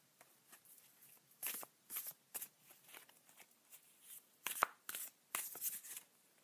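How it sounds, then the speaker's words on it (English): Cards are shuffled in a series of soft, papery riffles and flicks, repeated in short bursts, close by and quiet, with no talking. "I'm going to just give them a wee shuffle"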